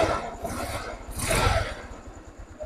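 A Motorstar Easy Ride scooter engine, battery-operated, cranks and fires up after a kill switch is wired in, giving a short burst of starter whir and rough low engine chatter close by, with no talking.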